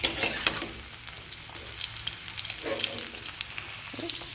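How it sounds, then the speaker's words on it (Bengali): Paneer pieces frying in oil, a busy crackling sizzle with occasional clinks and stirring sounds, close and steady over the short stretch. "বাদ বাকি পনিরগুলো সব ভেজে নিচ্ছি"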